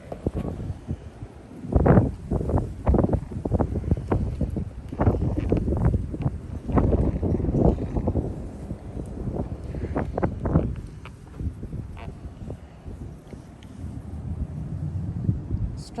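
Strong outdoor wind buffets the microphone beside a boat in gusty, uneven bursts of low rumbling roar that rise and fall throughout.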